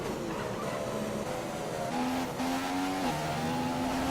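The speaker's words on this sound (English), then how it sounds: "Here comes a Mercedes Sauber, even though it's a Ferrari Sauber, but it's got the power of a fucking Mercedes car." A Sauber Formula 1 car in the F1 2015 racing game screams past, its engine note climbing and shifting through gears in a loud, rising whine over steady road noise.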